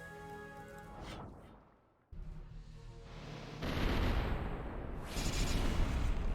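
Cannon fire in the strategy video game Symphony of War, heavy booming blasts with a sharp cut into louder rumbling explosions that build toward the end, loud and dense.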